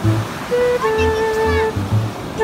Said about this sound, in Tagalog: Kaso maalon, maalon, maalon.